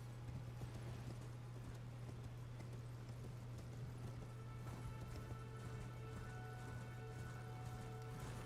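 Horse hooves clip-clop steadily in a fantasy video game, a continuous rhythmic trotting over a constant low hum, fairly faint with no talk.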